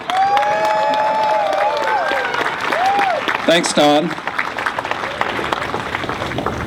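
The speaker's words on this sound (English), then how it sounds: "give him a nice round of applause" A crowd claps and cheers at the opening ceremony of the Mystic Timbers ride at an amusement park. The applause is steady and fairly loud, and someone speaks briefly over it.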